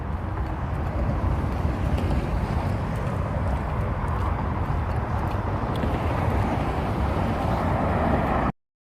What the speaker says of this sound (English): Bit of, traffic noise